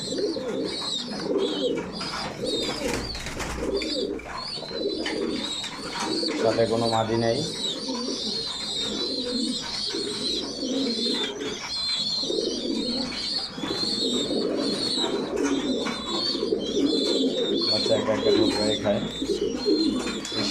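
Close, continuous cooing from domestic pigeons during molting season rolls on in low repeated bursts, with someone talking intermittently in Bengali alongside.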